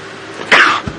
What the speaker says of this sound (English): I start sneezing when I see buffalo.